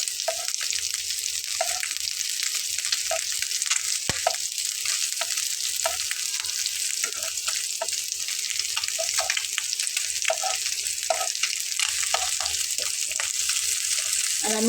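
Fish pieces fry in oil in a pan, giving a steady, dense sizzle throughout with faint occasional clicks and taps of a utensil, close and moderately loud, no voices.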